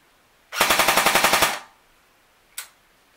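An AY/S&T AS VAL airsoft AEG, stock gun on a 7.4 battery with a MOSFET, rattles off one fast full-auto burst of about a second with evenly spaced motor-driven shots, then a single short click follows.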